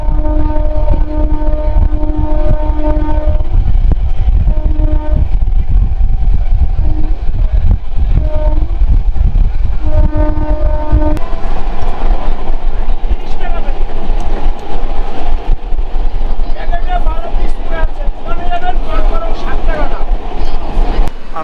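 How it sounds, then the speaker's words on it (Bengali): A train pulling into Bardhaman Junction station, heard from on board: a continuous rumble and rattle of the carriages with steady tonal horn or brake notes in the first half, then denser clatter as it slows, with faint voices around. "আমাদের ট্রেনটা কিন্তু এই মুহূর্তে ঢুকছে বর্ধমান জংশন।"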